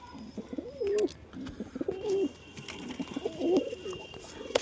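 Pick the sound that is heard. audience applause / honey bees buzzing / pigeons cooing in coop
pigeons cooing in coop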